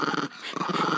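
A dog growls in two low, rumbling bursts with a short gap between them, close and fairly loud, just before a bath.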